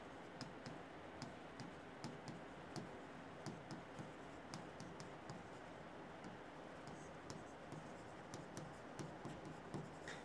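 Pen or chalk writing out a chemical reaction by hand, heard as a steady stream of light scratching strokes with frequent sharp ticks and taps, close and fairly quiet with no talking.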